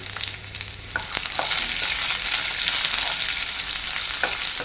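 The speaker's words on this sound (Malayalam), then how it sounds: "സവാള കനം കുറച്ച് അരിഞ്ഞതാണ് അതോടെ ചേർത്ത് കൊടുക്കാം കൂടെ തന്നെ എരിവിനാവശ്യമായ ആവശ്യമായ പച്ചമുളക്" Thinly sliced onion and slit green chilli frying in a pan for a Kerala beans stir-fry, a sizzle that swells into a loud, steady hiss after the ingredients go in, with a few clinks from stirring.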